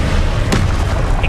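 A short, booming blast from the Confringo spell in Hogwarts Legacy hits close and loud, with a sharp impact over a dense rumbling background.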